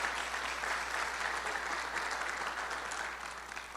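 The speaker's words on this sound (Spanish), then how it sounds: "Démosle un fuerte aplauso a Cristo Jesús." Congregation applauding during a Spanish-language church sermon, a steady wash of many hands clapping, fairly quiet and somewhat distant, continuing evenly before tapering slightly at the end.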